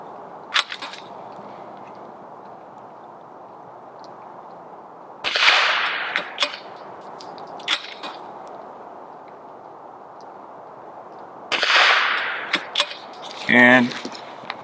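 Two loud, sharp rifle reports from a supported prone shooting position, spaced several seconds apart, each with a brief tail, over a quiet outdoor background; a few faint clicks and a short mechanical rattle follow the second shot.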